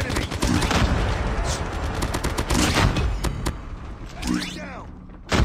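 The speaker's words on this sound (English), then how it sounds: "Sentry gun deployed. Contact with enemy." A deployed sentry gun in Call of Duty fires rapid, loud bursts at enemies over ongoing battle noise, with thuds and scattered shots. Game voice lines sound over the gunfire, and it breaks off briefly near the end.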